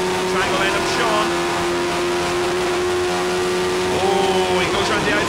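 Caterham Seven race cars circulate at Kirkistown circuit, giving a loud, sustained engine drone that rises slightly as they brake and accelerate, with a commentator talking continuously over it.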